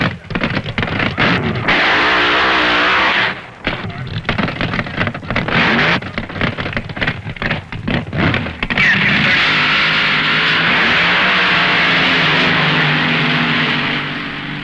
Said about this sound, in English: Big John's Barracuda against Mickey Thompson's Mustang in the funny car finals